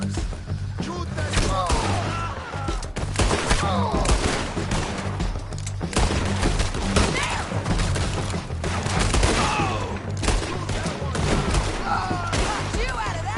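A gunfight rages in the video game Red Dead Redemption 2, with repeated loud gunshots and volleys cracking throughout while people shout and talk over the firing.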